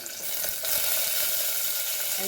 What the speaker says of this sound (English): Now we will add our chilies and tomato and